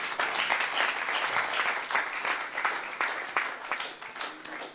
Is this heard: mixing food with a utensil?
no